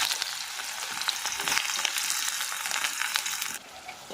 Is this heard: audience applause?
no